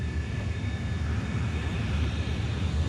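Steady airplane engine drone in flight, a continuous loud rumble with faint high whine, alone without talk, from a dramatized cockpit scene.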